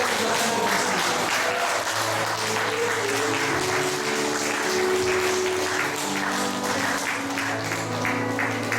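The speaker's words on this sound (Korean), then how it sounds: "우리 좀 박수로 크게 쳐주셨으면 좋겠습니다" A large audience at a 2009 church discipleship-college graduation ceremony claps in sustained, dense applause that holds steady and loud throughout, with music faintly underneath.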